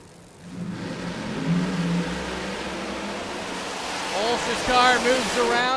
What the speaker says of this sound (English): Ulsh's car moves around a half track